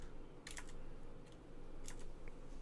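Someone typing on a computer keyboard near a StarCraft 2 Copa América 2014 tournament broadcast, producing quiet scattered clusters of key clicks over a steady low hum, with no voices.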